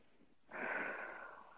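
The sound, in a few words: person breathing deeply while crying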